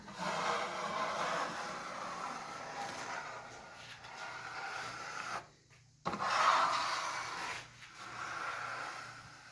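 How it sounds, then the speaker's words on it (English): Osmo Poly-X Hard Wax Oil being rubbed onto a wooden table, a continuous close scrubbing and wiping hiss that breaks off into near silence briefly before resuming. "Finally, it's time to put the finish on. Using this stuff here, it's Osmo Poly-X Hard Wax Oil."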